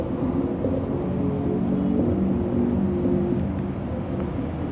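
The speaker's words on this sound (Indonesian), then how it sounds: "traktor puling sudah mulai bergerak." A puller tractor starts moving on a railway track-laying site near a tunnel to drag 500-meter rails, giving a steady low engine rumble and drone with faint distant clanks.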